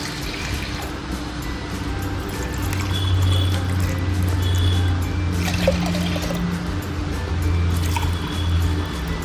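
Water is poured from a glass into washed toor dal in a cooking pot. It trickles and splashes in a steady stream close by and stays loud for several seconds, with no talk over it.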